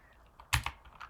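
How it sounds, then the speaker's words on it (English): A few keystrokes on a computer keyboard while a Go program is typed, two or three close, moderately loud taps with quiet pauses between them, no voices. "you can type the program"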